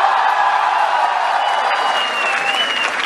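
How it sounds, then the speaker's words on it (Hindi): Loud, dense applause with cheering and whoops from a college audience honouring Hansraj College at a live comedy event in India, a steady roar of clapping filling the whole stretch with no voice on top. "एक बार हंसराज कॉलेज के लिए जोरदार तालियां प्लीज"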